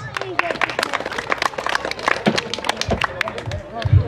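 Crowd clapping at a jaripeo rodeo in Guerrero, Mexico, a scattered, busy patter of hands heard up close, with an announcer talking over it throughout.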